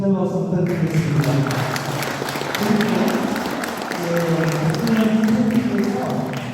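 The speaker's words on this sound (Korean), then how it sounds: "네, 힘찬 박수 부탁드리겠습니다." Audience applause at a Korean book launch for a biography of Chunam Park In-ho, steady clapping from a gathered crowd that runs under continuous talk and tonal sound throughout.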